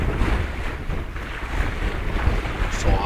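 Sailboat under genoa alone leaving a channel in a gulf, with steady, loud wind buffeting the microphone and the rush of water along the hull continuing throughout.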